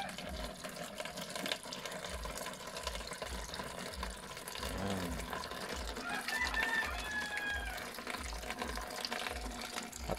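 Water flows steadily through a rice paddy in the countryside, a continuous wash that fills the whole stretch at moderate level, with a rooster crowing and chickens clucking faintly in the background.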